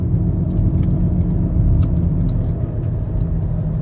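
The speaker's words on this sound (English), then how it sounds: "you can hear the roaring sound. It almost sounds like you're driving on mud tires." A 2005 Ford Freestyle driving with a roaring noise, a loud steady low rumble from the road and drivetrain that sounds like mud tires, continuous throughout with no talking.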